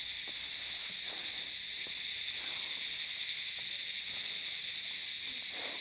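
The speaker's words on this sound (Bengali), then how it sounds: "জাস্ট পোকার আওয়াজ শুনুন, এদিকে এত বড় বড় পাইন গাছ আর পোকার আওয়াজ তার সঙ্গে।" Insects chirp in a steady, continuous high drone among tall pine trees on a steep hillside trail, with faint scattered clicks beneath and no talking.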